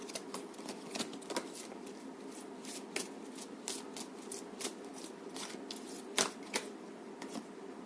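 Tarot cards are shuffled and drawn from a deck, producing quiet close-up flicks, snaps and papery rustles in an irregular rhythm, with occasional sharper card slaps.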